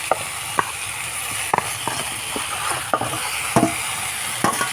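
Fried rohu fish head pieces and malabar spinach stems stirred into a hot pan of spiced potatoes, a steady loud sizzle with repeated scraping and knocking of the spatula, no talking.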